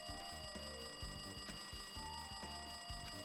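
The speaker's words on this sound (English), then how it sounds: "It's loud ass alarm." A loud alarm rings in the Danganronpa 2 video game, a rapid repeating electronic bell pulsing in a steady rhythm alongside a constant high tone, continuous and alone, no voices.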